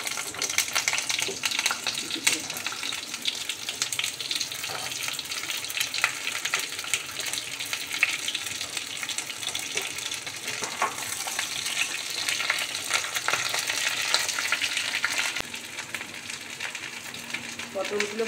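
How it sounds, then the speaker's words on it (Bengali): Pointed gourd (potol) pieces fry in hot oil in a kadai, giving a steady, close sizzle that holds for the whole stretch with faint stirring clatter mixed in. "পটলটাকে লাল করে ভেজে তুলব"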